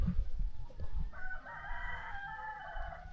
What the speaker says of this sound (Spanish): Es como una orquesta de gallinas y de gallos.